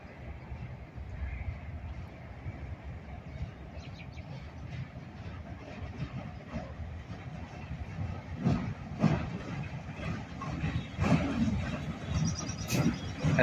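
A freight train switching cars rumbles slowly nearby in Avon, with low steady rolling noise and occasional metallic clanks and knocks growing louder toward the end.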